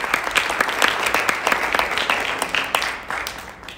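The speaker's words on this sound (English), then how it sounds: "A big round of applause to the two of them." Lively audience applause at a music concert, with distinct, rapid claps, moderately loud and tapering slightly toward the end.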